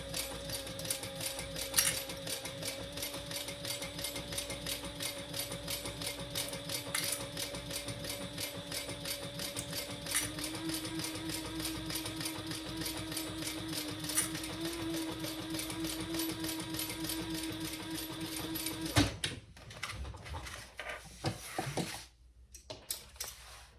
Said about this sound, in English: we're going to sew those at the seam allowance in the pattern